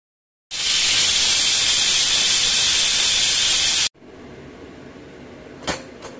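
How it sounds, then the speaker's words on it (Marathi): A pressure cooker cooking masala moong dal khichdi releases a loud, sharp steam hiss for about three seconds, then cuts off abruptly, leaving a quieter room tone and a brief clink. "चला आता कुकरचं झाकण लावून घेते आणि फक्त 2 शिट्ट्या काढून घेते याच्या"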